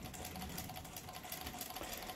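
Old Lion household sewing machine, a straight-stitch-only model, running steadily with a fast even stitching rattle, faint and close, with no talking.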